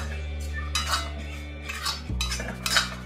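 A utensil scrapes and clinks against a pan while coriander and turmeric powder are stir-fried, several sharp metallic knocks over a low steady hum, nearby and moderately quiet.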